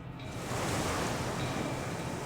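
Ocean waves surging in cold open water, a broad, continuous wash of surf at steady loudness with a windy edge, with no voices.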